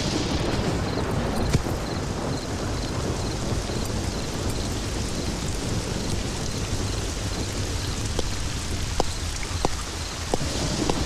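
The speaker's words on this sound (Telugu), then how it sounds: "వర్షం వస్తున్నది సారు" Steady heavy rain falls alone as a continuous close hiss, with a few sharp drops or cracks toward the end and no talking.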